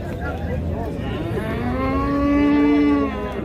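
One drawn-out livestock call rises over the busy murmur of an outdoor sheep market where fat sheep and rams are being sold, the call loud and close.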